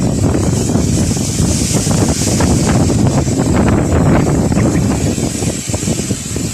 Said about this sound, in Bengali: খুবই ঝড়